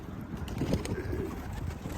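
Pigeons coo softly over a steady wet splashing and fluttering, with a constant low background hum throughout.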